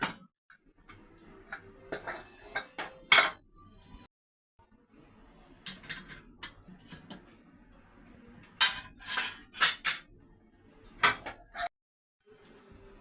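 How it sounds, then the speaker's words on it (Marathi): Metal clatter and clinks as a pressure cooker lid is twisted and lifted off after cooking pumpkin through three whistles, a few sharp knocks and scrapes in a quiet kitchen. "आता मी कुकर खोलत आहे"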